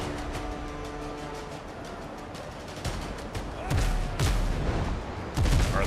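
Ship cannons firing in the pirate game Windrose, a few deep booming blasts in the second half over a busy background of clatter and ambient noise.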